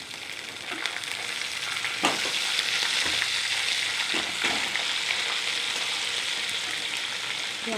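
Eggplant frying in a pan of cooked masala for vangyachi bhaji, a continuous close sizzle broken by a few stirring scrapes and knocks of the spoon, with no talk.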